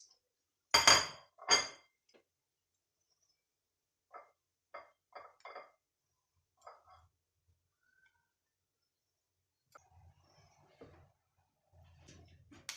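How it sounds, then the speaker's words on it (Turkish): Knife cuts through rolled yogurt tantuni wraps as two sharp clinks against the board, followed by a scattered series of softer taps and knocks with quiet pauses between. "Sardıktan sonra Şöyle dilim dilim kesiyoruz"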